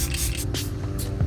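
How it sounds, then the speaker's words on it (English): Makeup setting spray goes off close to the mic in a couple of quick, breathy hissing spritzes over a low background hum. "I go in again with the setting spray."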